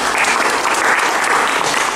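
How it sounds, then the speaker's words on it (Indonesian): An audience applauding a speaker named Agus, a dense, even burst of clapping filling the room for a couple of seconds, loud and close. "Oke, tepuk tangan buat Agus."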